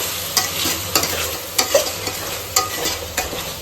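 Masalas stirred into rice for egg dum biryani, a steady loud sizzle broken by regular scraping strokes of a spoon about once a second, close up, no voices.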